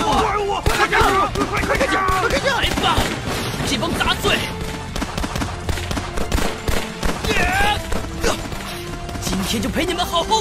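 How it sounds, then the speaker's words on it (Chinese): Gunfire erupts in an animated donghua battle, with rapid bursts of shots and impacts mixed with shouting voices and dramatic music throughout. "快开枪！"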